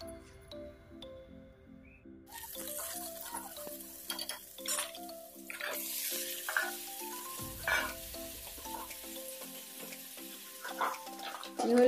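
Chicken and potatoes cook in a hot kadai, a soft sizzle with scattered clinks and stirring knocks, faint and close, over low tonal background music.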